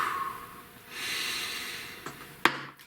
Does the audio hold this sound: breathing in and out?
yes